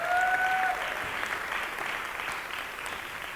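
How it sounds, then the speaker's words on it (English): An audience at a school talk event breaks into steady applause, a dense wash of clapping that fades slightly over a few seconds with no voices on top. "Yeah, make some noise for Santiago."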